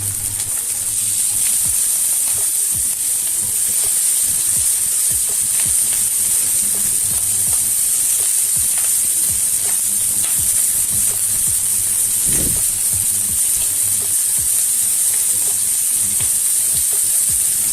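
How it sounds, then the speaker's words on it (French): Pumpkin burger steaks sizzle loudly in a smoking hot frying pan, a steady, dense hiss with crackles and occasional pops running throughout without a break. "Donc une fois que ma poêle fume, je viens déposer mes steaks."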